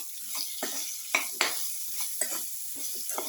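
Bottle gourd pieces sautéed with salt in a pan, a soft background sizzle broken by a series of short scraping stirs and spatula knocks, close and fairly quiet.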